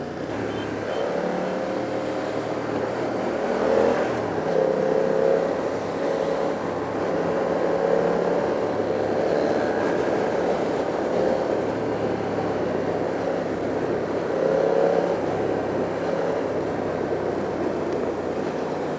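A BMW F 900 R motorcycle engine hums steadily while riding through Mumbai traffic, a continuous droning tone with slight shifts in pitch as the throttle changes, heard close and loud with no talk.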